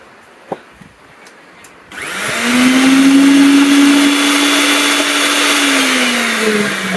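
After a few light taps and clicks, a heavy-duty grinder machine switches on and roars at high speed, a loud sustained motor whine with a steady hum that holds nearly level, then dips slightly toward the end.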